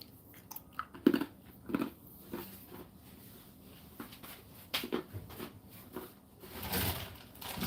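Crunchy coconut ginger biscuits are chewed close up, giving irregular crisp bites and crunches with quiet pauses between them; no one speaks.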